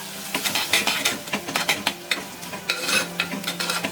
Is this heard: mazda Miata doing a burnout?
no